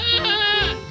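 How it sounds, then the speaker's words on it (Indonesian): A goat bleats once, close and loud, a wavering nasal cry lasting about a second with no other sounds around it. "Ibunya kambing."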